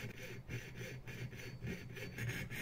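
A jeweller's fretsaw cuts through a workpiece with steady back-and-forth rasping strokes, about three per second, close and moderately loud, with no talk over it.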